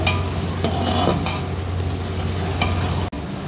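Ground masala, a blend of seven or eight spices, sizzling in a pan for lati ni dal in a hotel kitchen, a steady frying hiss with a few soft stirring scrapes and clinks.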